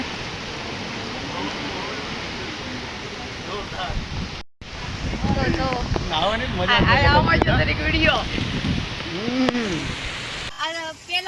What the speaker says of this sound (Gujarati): જોઈ શકો છો કેટલો પવન છે વરસાદ છે